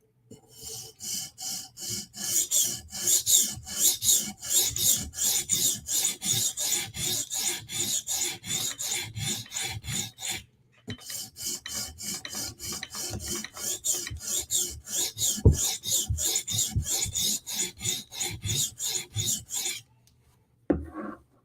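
A Chris Reeve Sebenza Tanto knife is sharpened to a mirror edge, its blade drawn in steady, rapid raspy strokes across a stone, one continuous run with a brief pause midway and a final few strokes at the end.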